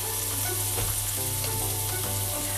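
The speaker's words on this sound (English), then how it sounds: "I make the onion fry." Chopped onion fries in a pan for a pumpkin risotto, a dense and even sizzle heard up close that runs steadily without pause.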